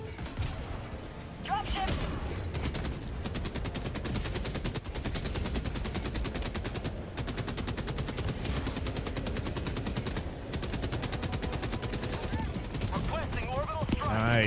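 An autocannon in the Helldivers 2 video game fires in long, rapid, sustained bursts, loud and close, with brief pauses and mechanical clatter, joined by game sounds.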